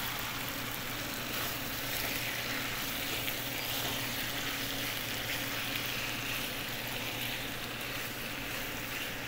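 Chicken gizzards sauté with tomato in a pan, producing a constant close-up sizzle and frying hiss that stays even and unbroken throughout, with no voices.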